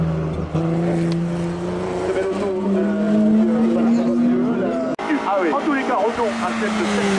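Fresco Kitcar racing up a hillclimb course, its engine revving high and climbing through gears with tire noise, while a commentator talks over it.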